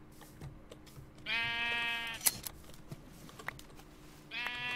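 Minecraft sheep bleat in two bursts, a wavering nasal bleat in the middle and another starting at the end, over a low game ambience with soft clicks and taps.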